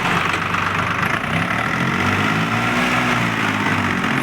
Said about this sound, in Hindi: ये देखिए ट्रैक्टर ले चुका, ट्राली को निकाल चुका है।